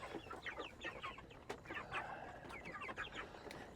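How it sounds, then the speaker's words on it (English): Broiler chickens cluck and murmur softly nearby in a quiet setup, with a scatter of short, overlapping clucks and faint calls and no talking. "I really do have chickens getting out now."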